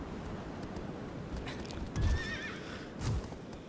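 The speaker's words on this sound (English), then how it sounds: "Good job, Aggro. Aggro's the best. Solid horse" Horse in the video game Shadow of the Colossus gallops with steady rapid hoofbeats, then lets out a loud rising neigh midway, with a second heavy thud shortly after.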